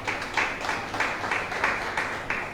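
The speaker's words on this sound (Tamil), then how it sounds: "உங்களுக்கே நீங்க கைத்தட்டு கொடுத்துக் கொள்ளுங்க." A church congregation at a Bible message applauds itself, steady overlapping clapping of a large group filling the room without a break, moderately loud and fairly close.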